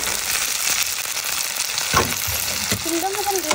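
Chopped onion, chili and garlic sizzling in hot oil in a pan, a steady close hiss of frying with a few stirring clinks and scrapes, and a short tonal sound near the end.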